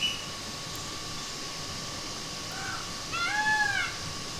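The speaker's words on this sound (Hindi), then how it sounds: "आप लोगों ने मोर की कितनी अच्छी आवाज़ आ रही है" A peacock calls out over village fields flooded with water, its rising, wailing cries sounding a couple of times at moderate distance over a steady hiss of outdoor background noise, with no one speaking.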